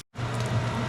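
Steady whirring hum of a fan running close by, starting abruptly after a brief silence and holding constant with a low tonal drone.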